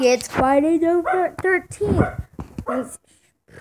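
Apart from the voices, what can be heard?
dog barking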